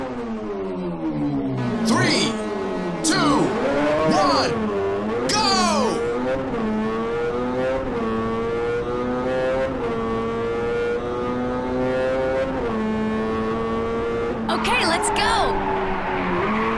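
Race cars in the video game Ridge Racer 7 roar loudly throughout, engines rising and falling in pitch through gear changes, with bursts of tire squeal and skidding as the cars drift through corners.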